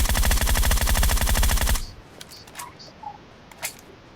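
Rapid automatic gunfire in PUBG on a tablet, a dense loud stream of shots lasting under two seconds, then a few scattered faint clicks and pings in the quiet that follows.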